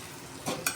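Chilli powder, turmeric, cumin and coriander powder stirred into prawn curry frying in a pan, a steady sizzle with two quick scraping strokes of the spoon near the end, close and without talk.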